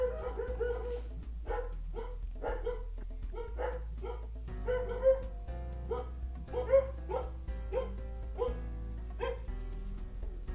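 Several dogs bark repeatedly in the background of a live tabletop Dungeons & Dragons session, producing rapid, uneven volleys of yips and barks over a low, steady hum at moderate volume.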